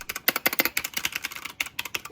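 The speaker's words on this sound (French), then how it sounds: "Il y a un mois, j'avais un vieux clavier éclaté." Rapid clattering keystrokes on an old, broken computer keyboard, a dense irregular rattle of clicks heard up close with no talking.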